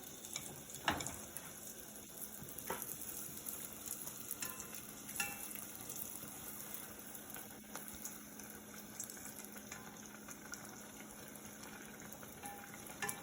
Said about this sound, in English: frying up a Patongko at home for the kids